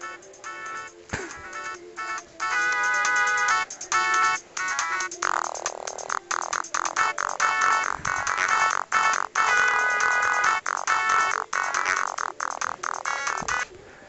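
Tinny, polyphonic game music from the Jump Boy game on a Samsung T301 Tracfone, copied from Sonic the Hedgehog 2, plays continuously as a busy, bright ringtone-like melody with quick repeating notes, close and fairly loud, with no talking.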